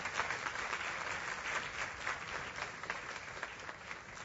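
Applause from a church congregation during a sermon, a steady dense clapping that holds at an even level throughout, with no voices standing out.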